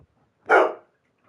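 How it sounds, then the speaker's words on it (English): A single sharp dog bark from somewhere outside, loud and alone, with near silence before and after it. "Don't start fucking barking now."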